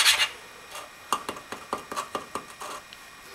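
Valve lapping on an engine head, a small suction cup tool twisted quickly back and forth against the valve seat with lapping compound, giving a series of short close gritty rasping scrapes in quick irregular rhythm.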